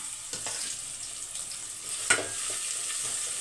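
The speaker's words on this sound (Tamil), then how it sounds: "இப்போ வெங்காயம் வதங்கட்டும்" Sliced large onions sautéing in an oil-filled pan for a home lunch, with a steady, close hiss and crackle, one brief louder sizzle burst partway through, and no talking.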